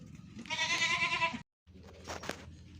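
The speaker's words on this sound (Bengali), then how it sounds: "দেখতে পাচ্ছি ছাগলগুলো বাড়িতে চলে এসছে" A goat in a Bengal village gives a loud, wavering bleat nearby, followed after a short gap by a rougher, quieter second call.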